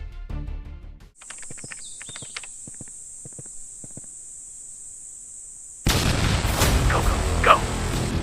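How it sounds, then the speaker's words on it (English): Gunfire and explosions echo across marshland in the SAF44 armed clash. Sharp, scattered cracks sound under a thin high steady tone, then a loud, rumbling burst of blasts rolls in and lingers. "The gunfire and explosions echoed across the surrounding marshes."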